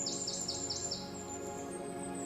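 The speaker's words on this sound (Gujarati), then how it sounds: "આખી વનરાયમાં પક્ષીઓનો કલશોર સુમધુર સંગીત પ્રસરાવી રહ્યું છે." Forest birds chirp in a quick run of four or five rising calls near the start, followed by a thin sustained whistle, all over a steady hum of ambience.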